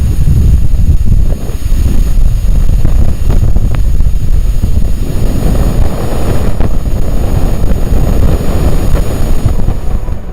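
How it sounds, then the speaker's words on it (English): Spacecraft magnetic and accelerometer data from a flyby of Venus turned into sound, capturing the solar wind striking the planet: a loud, continuous low rushing roar with a faint steady high whine, no voices. "The faint sound you just heard is coming from the solar wind interacting with Venus"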